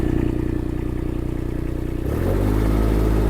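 The small engine of a mini skid steer idles with a fast, even chug, then the throttle is opened and it jumps to a louder, higher steady roar, close and alone.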